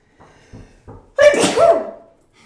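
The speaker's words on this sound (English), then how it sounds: "Hold on, I'm going to sneeze here." A single close, loud sneeze from one person: a couple of short breathy intakes, then an explosive burst that trails off, with no talking.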